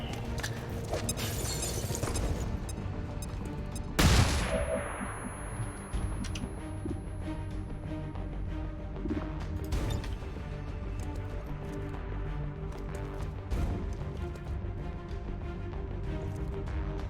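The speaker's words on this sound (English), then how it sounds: "we'll see how effective this flashbang is." Flashbang grenade going off in XCOM 2: War of the Chosen, heard as one sharp crashing burst amid busy game sound effects and a continuous music bed, with no talking.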